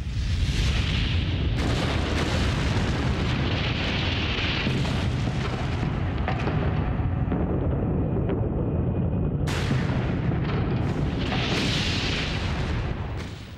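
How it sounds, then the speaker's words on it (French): An atomic bomb blast at Hiroshima in 1945, its shock wave shattering walls and windows: a loud, continuous roaring rumble with crackling debris that runs unbroken for about thirteen seconds. "Une fraction de seconde plus tard, une onde de choc dévastatrice qui se déplace à la vitesse du son fait voler en éclats murs et fenêtres."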